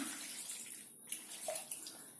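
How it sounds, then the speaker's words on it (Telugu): Four cups of water poured over two cups of lentils in a cooking pot make a short, soft, steady pouring splash, quiet and alone. "దానికి నాలుగు కప్పులు నీళ్ళు పోస్తున్నాను"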